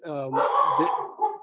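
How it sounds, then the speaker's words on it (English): A dog barks indoors during an online church meeting, a short harmonic bark-howl followed by a brief second yelp, close and fairly loud. "Sorry about my dog."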